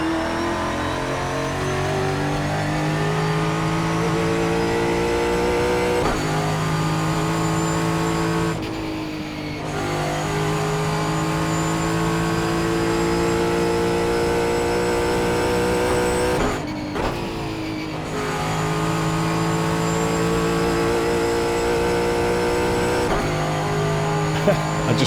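A GT4 race car's engine drones steadily around the Nürburgring Nordschleife in iRacing, with sustained revs, brief drops as it lifts for corners, and occasional tire squeal throughout.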